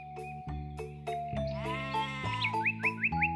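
An old goat in a children's fairy tale bleats in a quick series of wavering, trembling cries, close and loud, with a bouncy, quavering rhythm toward the end.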